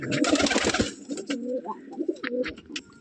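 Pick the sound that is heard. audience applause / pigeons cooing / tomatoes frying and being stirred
pigeons cooing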